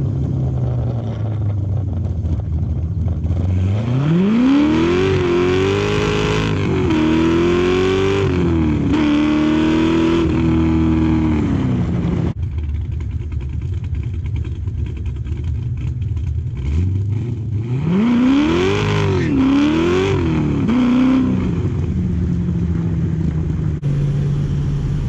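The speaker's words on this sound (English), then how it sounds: "I'm gonna get some exhaust notes." Corvette C6 Z06 with a Texas Speed LSX 441 engine revs and accelerates hard, its loud exhaust rising and falling through two long pulls with steady idle rumble between, close by.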